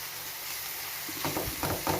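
Chopped eggs with amaranth leaves fry in a pan for an egg fry, a steady close sizzle with a few stirring scrapes near the end.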